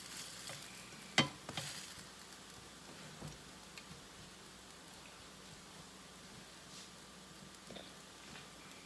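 French toast frying low and slow in a pan, a faint steady sizzle with a sharp clatter near the start and a few soft scrapes, no talking.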